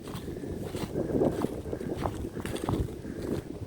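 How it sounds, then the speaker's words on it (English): Gusty wind buffets the microphone on a hiking trail by a field in Pennsylvania during deer season, a low, rumbling roar that rises and falls unevenly, with faint rustling mixed in. "Very windy today."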